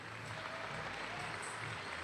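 Steady applause from an indoor arena crowd greeting archers introduced before the championship finals of the 2020 Vegas Shoot, a dense continuous clapping wash heard from a distance.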